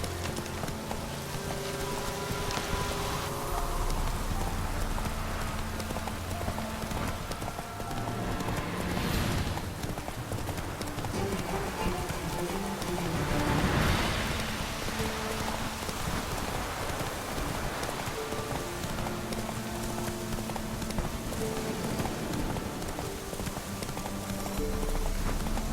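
Roach the horse galloping through rain in The Witcher 3, a continuous rhythmic clatter of hooves under steady rainfall, with game music in the background.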